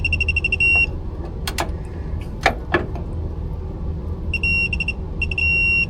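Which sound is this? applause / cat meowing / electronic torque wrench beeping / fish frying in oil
electronic torque wrench beeping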